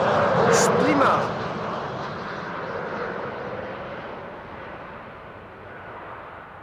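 A LOT Embraer 190 jet arriving at Amsterdam Schiphol from Warsaw passes with a broad engine roar that is loudest at first and then slowly fades into a steady, distant rumble.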